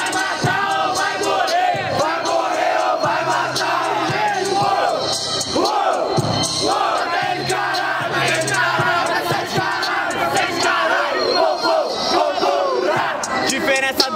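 A large crowd at a rap battle roars and shouts continuously, loud and dense, with voices yelling over one another throughout.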